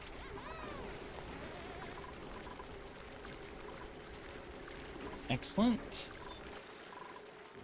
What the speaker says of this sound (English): There's the ethanol coming down.